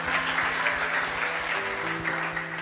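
A church congregation claps during a worship service, giving a continuous, even wash of applause with a faint sustained tone underneath and no clear speech.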